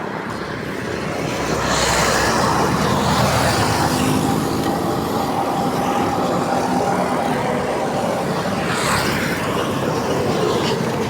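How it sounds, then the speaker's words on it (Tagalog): Steady roar of fast-moving road traffic, heavy vehicles passing close by in a continuous loud wash, with a couple of swelling pass-bys rising over the constant rumble. "Gitna ng daming sasakyan na malakas yung takbo nila."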